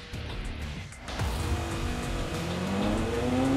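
Ferrari race car in the Forza Horizon 5 racing game, its engine rising in a steady roar that grows louder after the first second, with a faint tire squeal and a climbing engine note near the end.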